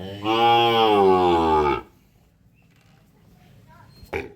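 A Sahiwal bull calf lets out one long, loud, low moo up close, followed by near silence and a short thump.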